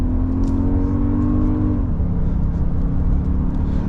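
A 2024 Toyota Grand Highlander Platinum Hybrid MAX accelerating hard, its engine note rising in pitch and then dropping as it shifts, loud and close with a steady drone throughout.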